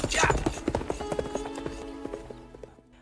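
Horse hooves clip-clop in a quick, regular series of sharp knocks, loud at first and then fading as the horse moves off, with faint tonal sounds lingering underneath.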